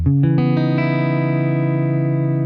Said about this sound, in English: So as you can hear, I'm on the neck pickup.